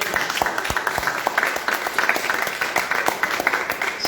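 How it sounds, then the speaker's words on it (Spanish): A church congregation bursts into applause during a testimony service, a busy crowd of many hands clapping with a few louder individual claps standing out, steady and fairly close throughout. "Un aplauso a Cristo, hombre."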